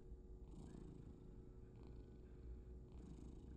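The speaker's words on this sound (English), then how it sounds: "A kitty!" A cat purrs steadily and softly throughout, a continuous low rumble with faint breathy swells, in an indie horror video game; no talking.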